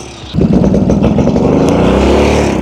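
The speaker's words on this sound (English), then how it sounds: "will I finally get these 55-year-old Hovercraft engines to start?" Pair of 55-year-old vintage hovercraft engines catching and settling into a loud, steady run after a brief quieter start, with dense rumbling harmonics throughout and no talk.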